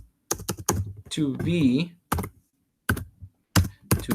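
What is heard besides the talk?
typing on a computer keyboard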